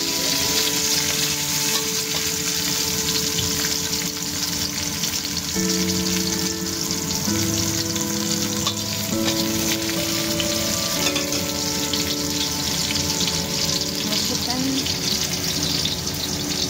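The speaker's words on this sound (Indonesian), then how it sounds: "Ini bakso ikannya digoreng." Fish balls fry in hot oil with a steady, loud sizzle that runs unbroken throughout, while music plays over it.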